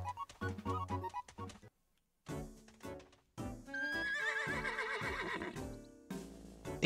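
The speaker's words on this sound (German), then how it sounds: "Ich höre ein Pferd." A horse neighs in the video game Miitopia, a whinny set amid bright game music with a brief silent gap, the music then swelling beneath the call.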